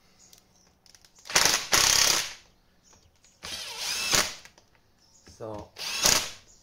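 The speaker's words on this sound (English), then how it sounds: "I'm doing it in the side casing with impact gun" Impact gun on a very low setting working on a side casing, three bursts of rattling hammering of about a second each separated by pauses, close and loud, with a brief spoken word in between.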